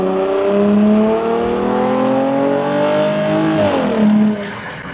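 A Dodge Challenger bought in Canada, heard from inside while driving, its engine droning loudly with rising harmonic pitch as it accelerates, then briefly dipping as revs shift before climbing again.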